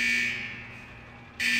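Alarms from the fusion press in World of Warcraft blare continuously, a loud, steady buzzing alarm tone that dips slightly and then swells back up, with no talk.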